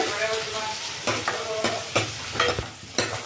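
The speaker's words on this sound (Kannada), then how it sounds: "ಮೆಣಸಿನ್ಕಾಯಿ ಇವು ಮೂರು ಒಟ್ಟಿಗೆ ಹಾಕಿ ಹುರ್ಕೊಳ್ತೀನಿ" Cumin, pepper and green chilies fry together in a hot pan, a steady sizzle broken by several sharp scraping stirs spaced roughly half a second apart, close and fairly loud with no voices.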